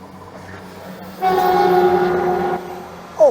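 A train passing at the seaside, heard close as a steady rumble that swells suddenly and holds with a strong tonal hum for over a second before easing off, followed by a brief rising squeal.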